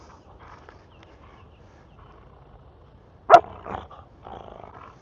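Dogs playing tug with a rope let out a sharp growl-bark burst, then a short follow-up snarl and low grumbling, heard close over a quiet background.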